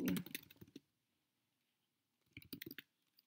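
Quiet typing on a computer keyboard while entering a chat message, two short bursts of rapid key clicks separated by a second of silence.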